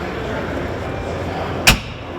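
A McCormick tractor's cab door shuts once with a single solid thud near the end, standing out from a steady background hum.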